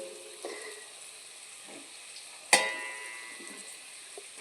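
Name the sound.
pre-cut ingredients added to a pan and stirred while frying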